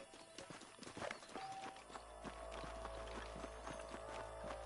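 Horses' hooves clip-clopping in the Red Dead Redemption western video game, a quick irregular run of hoof clops slowing into steady walking steps over a low rumbling background, fairly faint.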